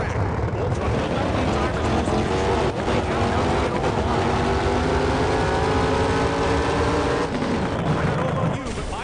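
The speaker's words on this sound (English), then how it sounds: "The roar of the engines firing up" Pro mod drag racing engines rev in the NHRA Championship Drag Racing video game, a loud, sustained roar that climbs and holds for nearly the whole stretch, with faint voices underneath.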